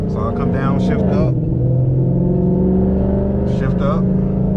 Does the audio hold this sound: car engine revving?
yes